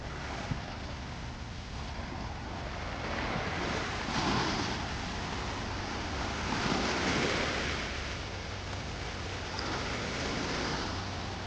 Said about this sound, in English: The waves are getting a little higher.